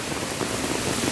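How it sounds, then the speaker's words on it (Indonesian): Heavy rain with strong wind pours around a house, a dense continuous hiss close by with no pauses or voices. "Jadi seperti ini teman-teman ya, suasana hujan di tempat tinggalku."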